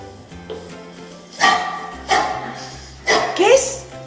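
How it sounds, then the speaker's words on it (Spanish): A dog barks in several sharp bursts, spaced about a second apart, close by and fairly loud, with a low background hum and some voice-like sound between the barks. "¿Qué es? Un perro."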